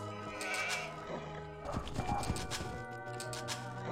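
Sheep bleat in an Age of Empires 2 HD match, the game's short animal calls rising over a steady backdrop of in-game ambience and music, with busier clustered sounds in the middle of the stretch.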